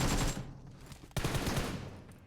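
Automatic gunfire in the mobile shooter BGMI, two rapid rattling bursts split by a short gap, loud and close with no talk over them.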